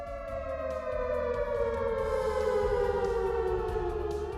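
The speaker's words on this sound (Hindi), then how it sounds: "लोगों को चेतावनी देने के लिए सायरन" A loud, sustained flood warning siren near Malana Dam in Himachal Pradesh wails steadily with a slowly falling pitch, droning alone over low background rumble.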